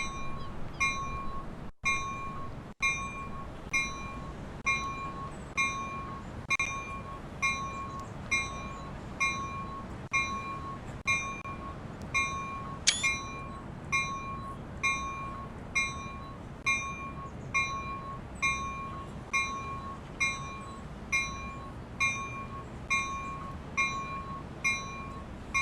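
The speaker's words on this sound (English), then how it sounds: "see if we can figure out how to turn that bell off really quickly" A locomotive bell in a train simulator game on the Peninsula Corridor rings with steady, evenly spaced clangs roughly every second, bright and metallic over a low rumble, continuing throughout at moderate loudness.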